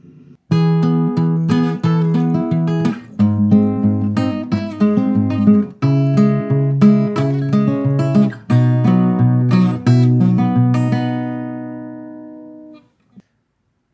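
Acoustic guitar finger-picking a song, a steady run of plucked notes and chords with hammer-ons and pull-offs, close and clear, ending on a ringing chord.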